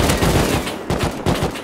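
Loud automatic AK rifle fire in a video game raid rattles in dense, overlapping bursts with short pulsing gaps, close and harsh, with no talking.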